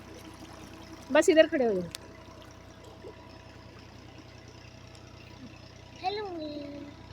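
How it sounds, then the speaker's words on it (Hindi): Water pours out of a canal in a steady, low rush that continues throughout, while voices speak briefly over it at the start and again near the end. "ये नहर से पानी निकल रहा है।"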